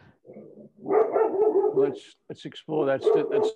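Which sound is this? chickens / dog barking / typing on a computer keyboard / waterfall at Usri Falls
dog barking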